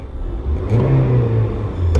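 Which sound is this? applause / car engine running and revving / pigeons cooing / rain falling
car engine running and revving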